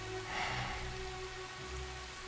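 Heavy rain falls steadily, a soft, even hiss of drops with a faint low hum beneath it, quiet and continuous with no voices.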